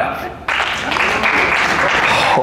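A comedy show crowd breaks into loud clapping after a short quieter lead-in, the applause swelling abruptly and holding steady as a broad, dense roar of hands with some voices mixed in.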